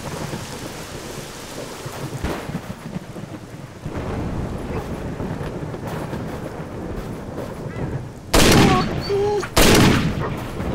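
Gunfire from a weapon in the video game STALKER: Shadow of Chernobyl, a few heavy shots over steady rain and rumbling ambience, with two loud blasts near the end.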